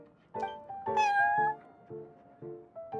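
A cat in Genshin Impact gives a string of short meows, one longer rising and falling call in the middle, each clear and close against quiet.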